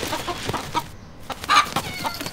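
A rooster kept indoors clucks and crows in short, agitated bursts, close and fairly loud, with brief gaps between calls.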